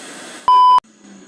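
A multimeter on continuity setting, an old faulty unit being repaired, gives one loud steady beep of about a third of a second, sharp against quiet workshop background.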